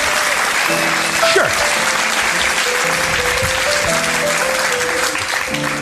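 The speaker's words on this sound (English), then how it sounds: "I graciously accept your applause." An audience claps loudly and continuously at a live comedy podcast taping, dense applause filling the whole stretch, with a few voices faintly under it.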